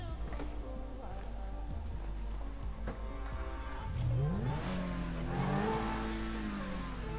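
A car in a video game garage starts up and its engine rises in a revving whine, moderately loud over a steady low hum.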